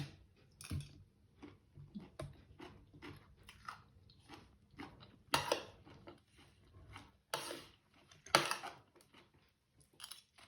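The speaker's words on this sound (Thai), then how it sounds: "ขอกินไข่มันหมดก่อนนะจ๊ะ" Someone eats egg with wet, irregular chewing and biting sounds, close up, with sharper crunchy bursts here and there and quiet pauses between bites.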